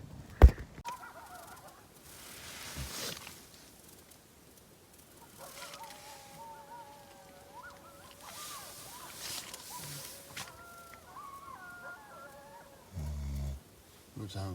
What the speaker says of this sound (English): You may be able to hear the coyotes howling in the back.